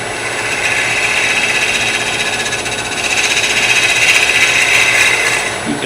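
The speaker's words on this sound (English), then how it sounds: "So I'm going to do just a little cleanup cut here." Wood lathe taking a light cleanup cut inside a turned wooden lid, a steady close whirring scrape with a gritty hiss of the tool on spinning wood, continuous and fairly loud throughout.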